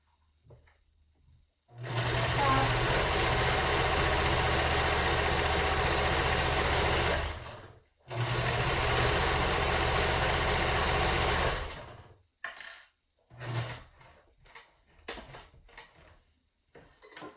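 A sewing machine runs at a fast steady whir while stitching a pleated face mask, in two long bursts split by a brief pause to pivot at a corner, followed by a few short clicks and taps.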